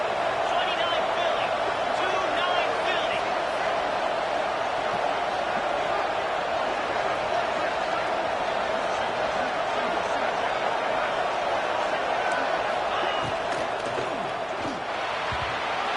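Home crowd roaring steadily in a college football video game (CFB26) after an incomplete pass near the goal line, a loud continuous stadium wash with bursts of cheering throughout, and no clear speech on top.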